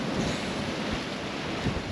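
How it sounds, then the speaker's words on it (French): A warm wind sweeps through Colca Canyon, a steady broadband rush with soft low gusts. It fills the short stretch with no other sounds and no talking. "le petit vent qu'on entend, c'est un vent chaud."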